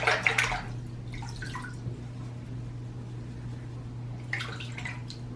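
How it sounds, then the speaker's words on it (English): A makeup brush swirled back and forth in a bowl of soapy water gives brief splashing bursts at the start and again near the end, with a steady low hum underneath. "And I swirl it into the water, and I just keep going back and forth."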